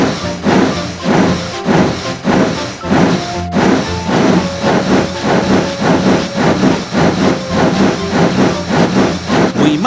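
Thomas the Tank Engine steam locomotive in a PC railway video game, rhythmic chuffing puffs of steam repeating steadily and loudly, with brief whistle-like tones riding over the beat.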